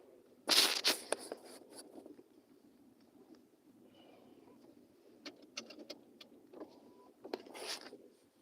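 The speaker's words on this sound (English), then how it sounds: "I'll just put the seatbelt on." Seatbelt buckled inside a car: a sharp click and strap rustle up close, then quieter shuffling and a few more faint clicks and taps near the end.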